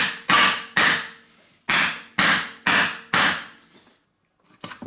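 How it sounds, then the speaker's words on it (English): A hammer strikes a length of angle iron driven into the soaped bead of a tyre, six sharp ringing metallic blows in an uneven rhythm, each decaying briefly, followed by a pause and faint scraping. "So get that in there into your bead with a hammer."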